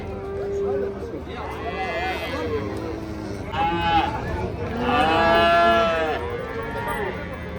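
Cattle and calves at an outdoor livestock bazaar in Uzbekistan, several drawn-out moos rising over a constant crowd murmur, with people talking nearby throughout.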